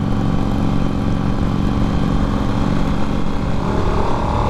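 A new Harley-Davidson Nightster motorcycle accelerates on a ride, its engine giving a steady, loud, close rumble that holds throughout with no speech.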